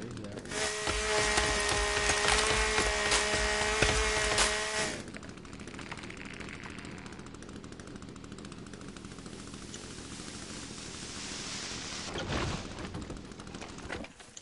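A chainsaw cuts trees beside a house, loud and steady for about five seconds at close range before dropping to a lower idle drone with scattered woody cracks.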